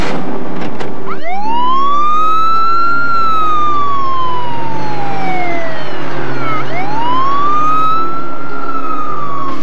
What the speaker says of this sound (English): I need to start the siren and get me to the hospital.